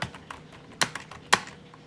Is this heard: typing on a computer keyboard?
yes